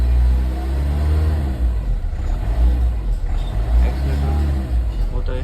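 A Ford EcoSport engine, just restarted after a wiring cut was fixed, revs up steadily as the accelerator is pressed, a loud continuous drone running throughout, with someone speaking over it.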